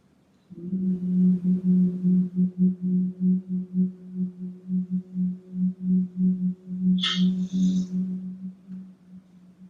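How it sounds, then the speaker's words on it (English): Steady, close, resonant humming during Tibetan yoga breathing: a low sustained tone held through long exhalations with a soft pulsing rhythm, and a brief breathy hiss near the end. "Breathing in through the nose and humming if you want to."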